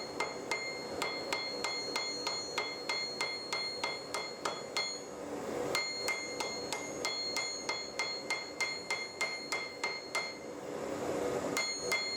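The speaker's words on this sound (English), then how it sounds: "A second round of gentle taps continues the process of forge welding." A hammer tapping heated steel cable on an anvil while forge welding, rapid regular metallic taps ringing brightly, roughly two per second, with a short pause midway before the even rhythm resumes.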